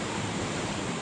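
Flood water rushes and washes against sand beneath a bridge, a dense, steady roar of moving water that stays loud and close throughout, with no voices.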